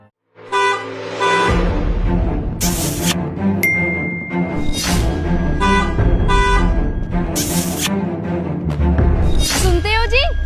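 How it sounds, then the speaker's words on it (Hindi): A car horn toots repeatedly on a road beside a motorbike, in several sharp, loud blasts spread over steady traffic and background music. "वो गाड़ी वाला लड़का ना मुझे हॉर्न बजा के छेड़ रहा है"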